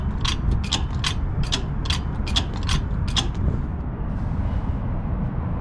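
A bottle jack worked by its long pump handle, a string of quick ratcheting clicks and mechanical creaks at an even pace over a low steady rumble, close by, then the clicking stops and only the rumble remains, no voices.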